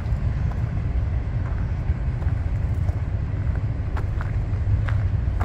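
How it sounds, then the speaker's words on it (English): A low, steady rumble of a train rolling by far off near a campground and RV park in Essex, Montana, a constant distant drone with faint clicks over it, no one talking. "You got the train running over there in the distance."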